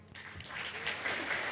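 A conference audience at a Toorcon security talk begins clapping, swelling quickly into a steady burst of applause over a second and a half, fairly distant in the room.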